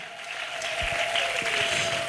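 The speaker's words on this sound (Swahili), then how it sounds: "Pigia vigelegele Bwana na makofi ya kiwango" Church congregation applauding the Lord, a dense continuous wash of clapping with a faint sustained high cry like ululation running through it, steady and fairly close.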